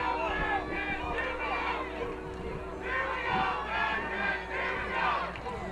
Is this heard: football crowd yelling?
yes